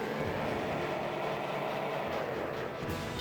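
A train from the Zelda Spirit Tracks video game, with a steady, loud rumbling roar of rolling rail noise that runs unbroken throughout.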